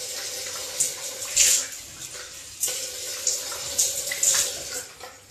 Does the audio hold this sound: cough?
no